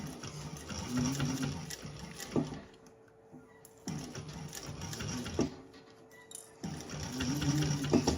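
A sewing machine stitches a candy bag in three close bursts of rapid whirring, each lasting about two seconds, with short quiet pauses between them.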